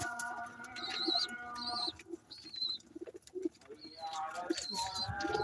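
Soft pigeon coos repeat quietly in the background while people talk nearby.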